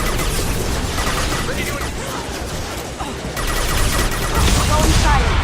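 Rapid bursts of gunfire during a Mass Effect combat sequence, dense and continuous over a steady battle din, with voices speaking between the shots.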